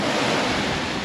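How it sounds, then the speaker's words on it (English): Big ocean waves rush past a sailboat at sea, a loud, close, continuous wash of surf mixed with wind buffeting the microphone, with no voices. "So this is big waves. They're just running through here."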